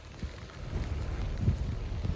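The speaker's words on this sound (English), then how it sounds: "See the rain coming and hear it hitting me." Rain falls on a person fishing in saltwater, a soft, irregular patter of drops close by with light gusts of wind mixed in, no voices.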